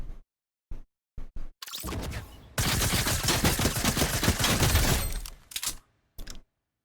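Gunfire from a weapon in Fortnite: a few scattered single shots, then a long dense burst of rapid automatic fire, followed by more isolated shots and abrupt silences.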